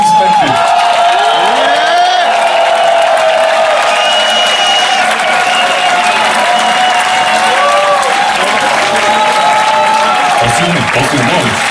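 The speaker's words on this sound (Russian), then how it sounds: "моля ви, силни аплодисменти!" Loud live-concert audience in Sofia claps and cheers in a sustained, dense roar of applause with whoops rising throughout, crowd noise filling the space without a break.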